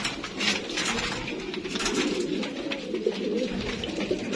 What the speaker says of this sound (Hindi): कामयाब तरीन कबूतर ने, सियालकोटी कबूतर ने